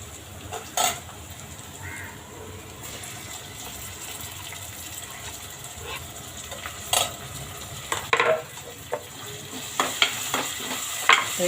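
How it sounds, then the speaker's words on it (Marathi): Tomatoes sautéing with ginger-garlic paste in a pan for misal, a soft continuous sizzle punctuated by scattered clinks and scrapes of a spoon stirring against the pan. "छान परतून घेऊ टोमॅटो"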